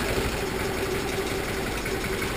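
Engine of a homemade sawmill idling steadily, a continuous close rumble with an even vibrating drone and no talking.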